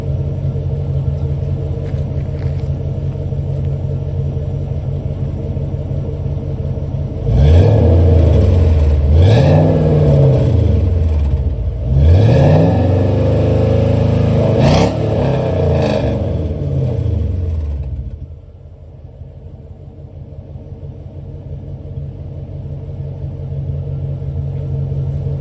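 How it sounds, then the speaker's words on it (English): A Squarebody truck's 5.3 V8 exhaust idles with a deep steady rumble, then revs up in several rising and falling bursts, loud and close, before settling back and cutting off. "you also hear the reason once I rev it why I don't like the exhaust setup"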